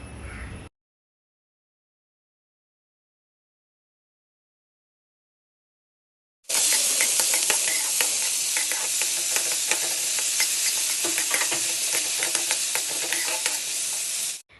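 Onions sizzling in a pan as they fry toward brown, a dense steady hiss with fine crackle that starts after a long silent gap and carries on loudly to the end.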